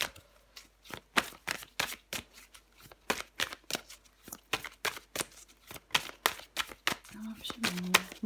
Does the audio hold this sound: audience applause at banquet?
no